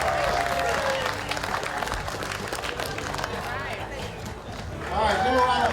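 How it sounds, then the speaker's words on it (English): Outdoor audience applause for a barbecue contest winner at a summer village festival, sustained clapping at moderate distance with people talking over it and a louder swell near the end. "All right, give a round of applause."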